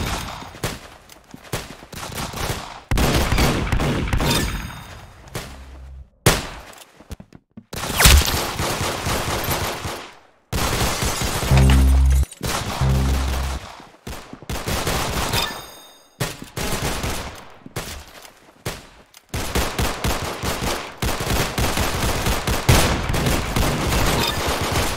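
Rapid gunfire from the Roblox Arsenal shooter game, dense bursts and volleys of shots running almost continuously with short pauses, loud and close throughout, with no talk over it.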